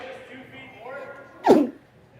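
A single quick sneeze breaks out during curling commentary, sharp and close to the microphone, following a stretch of quiet talk.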